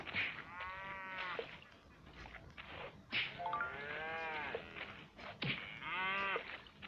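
Cattle in a survival crafting video game give several drawn-out moos, close and clear, repeating in separate calls with short gaps between them.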